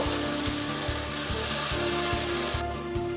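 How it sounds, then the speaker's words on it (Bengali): Tomato sautéing in a pan with a little water gives a steady, close sizzle with a regular low pulsing rhythm throughout. "সামান্য জল অ্যাড করে টমেটোটা কষিয়ে নেব।"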